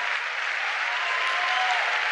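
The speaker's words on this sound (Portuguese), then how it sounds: "Pode aplaudir" A congregation at a Catholic prayer service in Brazil breaks into applause, a loud, continuous rush of many hands clapping together without a break.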